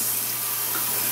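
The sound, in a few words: running lukewarm water rinsing off a LUSH face mask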